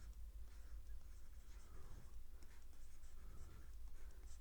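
Pen or pencil writing out a square-root answer by hand on paper, a soft continuous scratching that runs steadily throughout with no voices.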